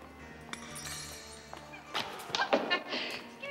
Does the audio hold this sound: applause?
no